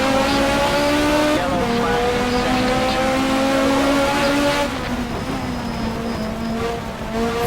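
A BMW rear-wheel-drive race car in the Race 07 racing game screams near at high revs, its engine note climbing and dropping through gear changes in one steady, loud drone.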